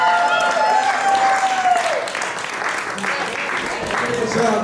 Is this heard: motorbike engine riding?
no